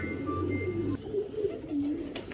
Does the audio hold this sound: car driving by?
no